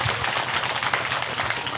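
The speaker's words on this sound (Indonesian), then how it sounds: "Wow, tepuk tangan" An audience at an Islamic religious gathering in West Kalimantan claps in a short, dense burst of applause that carries on steadily throughout.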